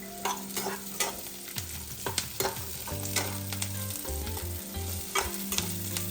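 Cashews and chopped ginger frying in a pan give a loud, crackling sizzle, with sharp clacks of a spoon stirring at intervals and no voices.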